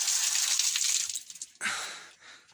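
Fresh mountain water runs from a shower in a small cubicle, a steady broadband hiss that cuts off briefly and then resumes loud and close.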